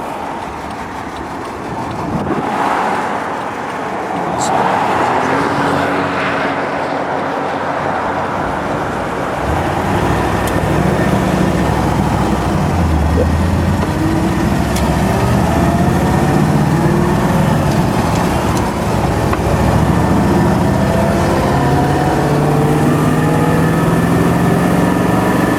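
A 1957 Ford Thunderbird engine with a loose muffler revving up and pulling away, loud and rough, the pitch rising and dropping through double-clutched gear shifts as the car accelerates along the road.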